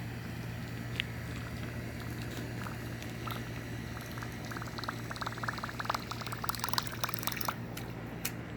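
A Whopper Plopper 90 fishing lure is retrieved through water with a steady gurgling, churning plop that grows more splashy toward the end, faint under a constant outdoor hum.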